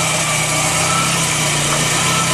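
A VW Scirocco GTX fitted with a DX engine idles steadily, giving a smooth, even hum close to the engine bay with no other sounds.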